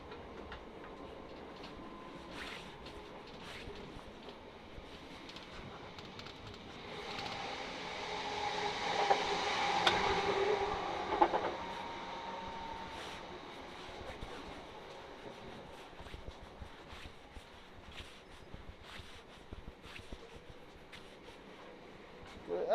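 Inside a Southern passenger train between Dorking and West Croydon, a low steady rumble of running carriages carries repeated wheel clicks and thumps over rail joints, swelling to a louder, rougher roar midway before settling back.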